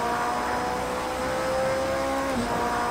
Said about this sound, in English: Listen to that engine, what an awesome sound.